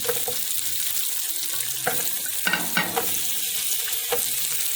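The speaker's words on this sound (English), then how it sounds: "I'm going to go in with sliced onion" Smoked bratwurst and sliced onion fry together in a pan, a constant crackling hiss with occasional clattering stirs and brief louder bursts, heard close and alone.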